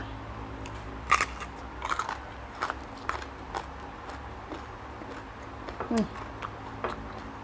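Crunchy bites and chewing of a spicy shrimp salad eaten with eggplant, several sharp crisp crunches spaced through a quiet room, close to the microphone, with brief speech in between.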